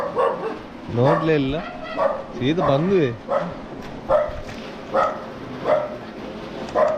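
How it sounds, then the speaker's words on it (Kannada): A dog barks and yips in short bursts near a work site, mixed in with people talking conversationally over the sounds. "ನಾಯಿ ಉಂಟು"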